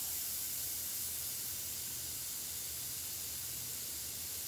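Steady hiss of an airbrush spraying paint, continuous and fairly close with no pauses, on its own without voices.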